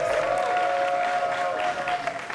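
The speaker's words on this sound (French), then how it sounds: "Applaudissez pour Fabrice" Steady applause from an audience fills the space, a dense wash of clapping with a faint tonal hum running beneath it.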